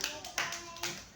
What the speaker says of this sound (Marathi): मस्त मस्त टाळ्या वाजवा.